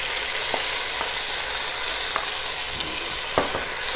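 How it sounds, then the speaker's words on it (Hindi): Sliced onions frying in hot oil in a pan for chicken pulao, a dense continuous sizzle with a few sharp crackles and stirring scrapes, close and steady, no talking. "ये देखिए प्याज लाइट ब्राउन होना शुरू हो गए हैं"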